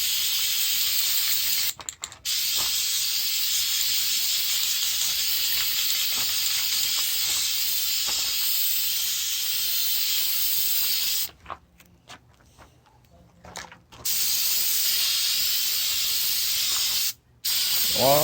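Long, steady hissing spray from an aerosol can of Flex Seal rubber sealant coating an Explorer 200 boat, close up, broken by a few short pauses and one longer gap before spraying resumes.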